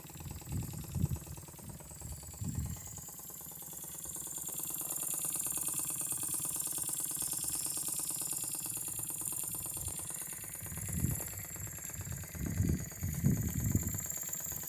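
Close by, a 1970s Jensen 20G live steam engine keeps up a soft, continuous mechanical churn on a glass-top table, the glass adding resonance, with a few louder thumping swells and no talking.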